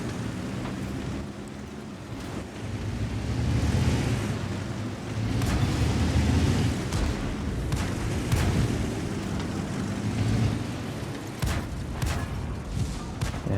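Tank cannon shots strike armour without penetrating in a World of Tanks-style battle involving a BZ-176. A handful of sharp, widely spaced cracks ring out over a continuous low rumble of engines and battle noise, with no speech.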